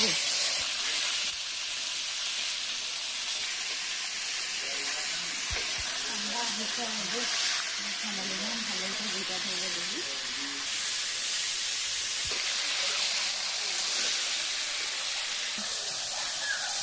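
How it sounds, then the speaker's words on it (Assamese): Fish frying in hot oil in a pan over a wood fire outdoors, a continuous loud hiss and sizzle throughout, with faint voices and soft clatter under it. "এতিয়া মোৰ তেল গৰম হৈ গ'ল, মাছখিনি পেলাই দিম"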